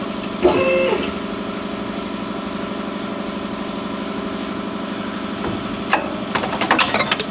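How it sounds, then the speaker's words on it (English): Steady mechanical drone of a vehicle lift raising a 1986 Ford F-150 during front suspension teardown, with a clunk near the start and a burst of clanks toward the end, continuous and moderately loud. "We're gonna lift the vehicle just a little bit."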